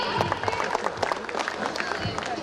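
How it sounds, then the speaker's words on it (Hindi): An audience at a school annual function claps for a recited poem, brisk scattered handclaps over crowd murmur with some voices mixed in. "Please give a huge round of applause"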